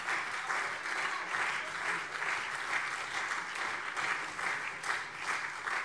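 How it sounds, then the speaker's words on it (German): Applause in a German parliament plenary session, a steady wash of clapping from many hands heard at a moderate distance and holding evenly throughout. "Klatschen. Klatschen,"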